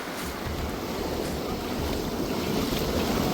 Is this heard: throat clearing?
no